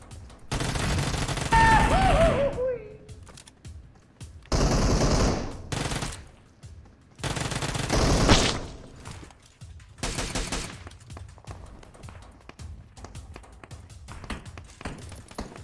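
Bursts of rapid video game gunfire in several separate volleys, loud and close, with short pauses between them and a faint voice mixed in.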